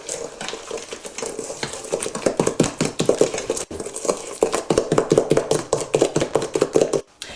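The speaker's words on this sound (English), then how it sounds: "Beat the eggs in one at a time." Eggs being beaten one at a time into a sultana cake mixture, a quick steady rhythm of utensil strokes knocking against the bowl, close and fairly loud throughout with a brief pause midway.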